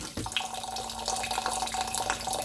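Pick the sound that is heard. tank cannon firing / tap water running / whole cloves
tap water running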